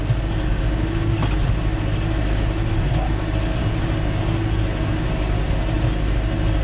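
A small farm tractor pulling harrows across a field, its engine running at a steady, unbroken drone with a low rumble, close and constant throughout.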